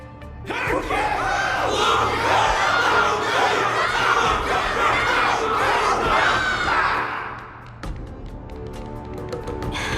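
A big crowd shouts and cheers for Luca in Honkai: Star Rail, a loud, dense roar of many voices that holds for about seven seconds, then drops away to quieter scattered sounds and small knocks.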